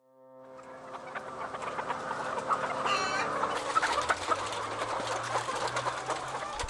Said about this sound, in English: Chickens cram together so closely, they can't turn their bodies or touch the ground.